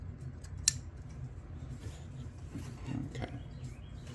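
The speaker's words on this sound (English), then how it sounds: "We're going to give that a snip." Scissors give a single sharp snip through thread after lace is sewn on a sewing machine, brief and close against a quiet, low background hum.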